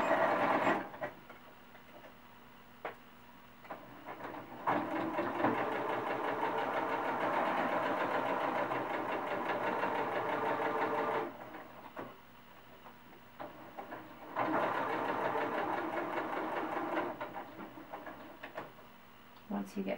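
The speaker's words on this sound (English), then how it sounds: "I'm going to do a seam around the ponytail just to finish it and hold it together." A sewing machine stitches a seam around a cloth doll's ponytail, running in long steady bursts of rapid mechanical whirring with short pauses between runs.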